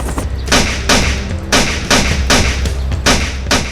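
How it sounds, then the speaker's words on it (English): Browning 9mm pistol fired on a military training range in rapid succession, about seven sharp reports roughly half a second apart, loud and close with reverberant tails. "In Afghanistan, Mal's life may depend on the Browning 9mm pistol, so he needs to be able to use it effectively."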